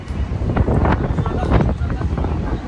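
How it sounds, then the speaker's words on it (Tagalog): Gusty wind buffets the microphone on a Taipei street, a steady broadband rumble with louder surges throughout. "Kita nyo, mahangin."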